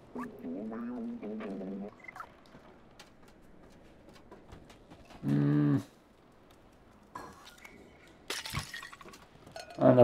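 In the video game Stray, an object breaks with a sharp glass-like shatter and clink near the end of a quiet stretch, after a few cat meows and scattered small knocks.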